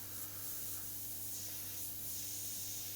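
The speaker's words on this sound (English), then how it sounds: "I'm using the airbrush first to establish some of the textures. I'm not just spraying flat." Airbrush spraying paint for Joker makeup texture work, a steady soft hiss of air and paint running continuously and evenly throughout, with a faint low hum beneath and no talking.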